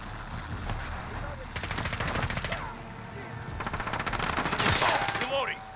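AKM assault rifle fire in Call of Duty: Modern Warfare: two long, rapid automatic bursts separated by a short pause, loud and close over a busy battle background.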